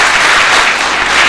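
Audience applause for a devotional song performance by a female singer, a dense, steady wash of clapping filling the whole moment at close, loud level with no voices.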